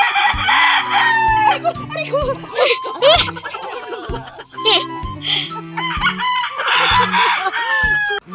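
A rooster crows repeatedly amid a busy chorus of clucking chickens, loud and close, with short gaps between calls.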